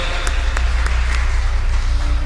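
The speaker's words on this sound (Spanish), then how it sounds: "Démosle un fuerte aplauso." Church congregation applauding during a Spanish-language worship service, a dense steady wash of clapping with a low hum underneath, a few sharper claps standing out, no voices.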